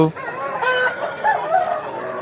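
A rooster of tall fighting-cock stock, standing over twenty-three inches and weighing about three and a half kilos, gives a few short throaty calls and clucks at a chicken market, close and fairly loud over a faint voice.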